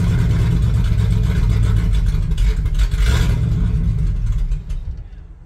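An abandoned truck's engine revs loudly and roughly up close, holding high for several seconds before the throttle eases and the sound drops away.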